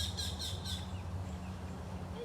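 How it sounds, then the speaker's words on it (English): Several birds call in quick bursts near a zoo enclosure, a few bright repeated chirps early on over a steady low hum and background murmur, then fading to quieter scattered calls. "Those birds are rowdy."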